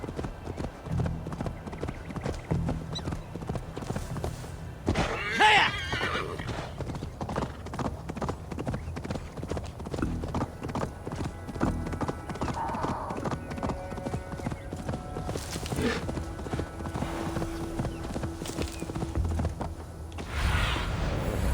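Horse hooves clip-clop in a steady galloping rhythm throughout a stretch of Assassin's Creed Valhalla gameplay, close and loud, with an occasional whinny, some distant booms and intermittent talk mixed in.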